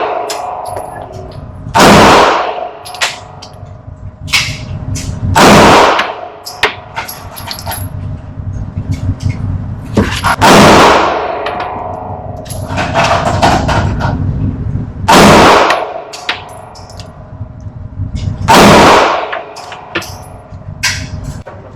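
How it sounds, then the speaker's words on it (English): Loud firearm shots at a shooting range, five single blasts spaced several seconds apart, each with a sharp crack and ringing decay, close to the listener. "I don't ever feel too secure when I'm shooting the firearm."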